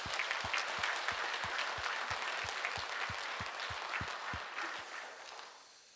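A church congregation claps together at a Sunday service for the church's anniversary, a dense burst of applause with a clear rhythmic beat that fades out at the end.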